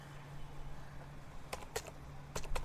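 A few scattered keystrokes on a computer keyboard while a command is typed at a Windows 11 Command Prompt, soft clicks in two brief clusters over a steady low hum.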